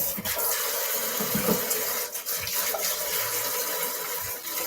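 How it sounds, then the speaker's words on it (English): Water runs steadily from a tap as hands are washed, a continuous splashing hiss with small bumps and knocks from movement in the basin, fairly close and with no talking. "you want to wash your hands because it stinks"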